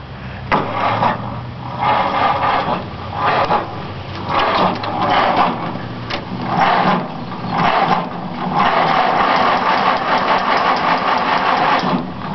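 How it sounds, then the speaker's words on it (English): A 1945 Case VI tractor engine cold-starts, cranking and coughing in an uneven, pulsing rhythm of loud bursts that settle into a rough, chugging run, close and loud throughout. "a 1945 case VI, and I'm gonna start it up for you"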